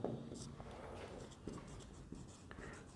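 A hand writes out a maths trigonometry solution, with close, soft scratchy strokes and small taps as the writing tool moves, lifts and restarts across several seconds.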